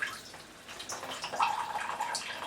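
Cooling water pours out of a water block tube on a water-cooled Slash 4x4 RC car, a light splashing, trickling flow that swells slightly partway through, close by and alone.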